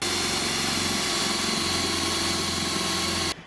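A power drill fitted with a Forstner bit bores a recess into wood, a loud steady motor whine holding evenly for about three seconds before cutting off abruptly.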